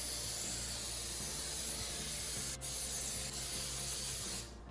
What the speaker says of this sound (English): Once your pan is sprayed